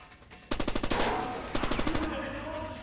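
Automatic gunfire in the video game Far Cry Instincts Predator, two loud rapid bursts of evenly spaced shots, the first about a second long and the second shorter, with a steady background hum between them.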